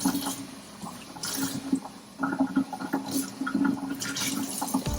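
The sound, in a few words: water running while rinsing turtle filter substrate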